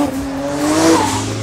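A 1400-horsepower AMS Performance Alpha 12 Nissan GT-R powers out of a corner, its engine roaring loud and close with a rising, strained tone and a hint of tyre noise over a brief burst.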